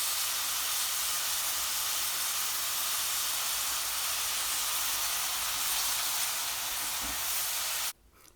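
Ginger garlic paste sizzles with onion in a hot pan, a loud steady hiss that continues for about eight seconds and then cuts off abruptly, with no talk.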